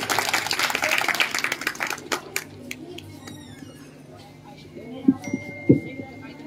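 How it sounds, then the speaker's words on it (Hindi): A burst of applause from a crowd that fades out over a few seconds, followed by scattered noises and a voice beginning to speak. "बस जोरदार तालियां"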